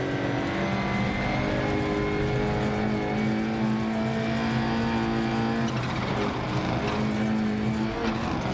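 A rally car engine howls at full throttle in Dirt Rally 2.0 on a Scottish stage, loud and sustained with a strained, rising whine and gear-change shifts, no voices over it.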